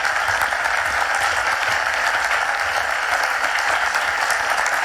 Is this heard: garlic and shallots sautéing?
no